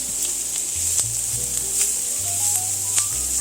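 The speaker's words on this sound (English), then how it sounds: "let's cook that garlic for about 30 seconds" Minced garlic sizzling in a pan while cooking Mediterranean shrimp, a steady loud frying hiss with occasional crackles and stirring scrapes throughout, no talk.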